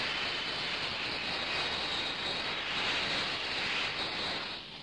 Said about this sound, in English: The astonishing Hawker P1127s show their versatility by taking off first from a concrete runway